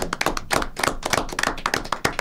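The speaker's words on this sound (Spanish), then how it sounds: "El aplauso para ella." Close, sparse hand clapping from a small audience at a Spanish-language short story contest awards event, irregular claps over about two seconds.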